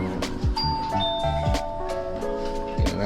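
A doorbell rings in a Filipino family's home with a few bright, sustained chime tones over a low background hum and muffled household noise.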